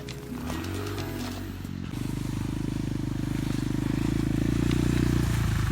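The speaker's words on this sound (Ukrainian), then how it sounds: "ось місцеві вже на мотоциклах" Motorcycle engines rumble steadily in a Carpathian mountain village in Ukraine, growing louder toward the end as bikes approach and pass nearby, with a low throbbing drone throughout.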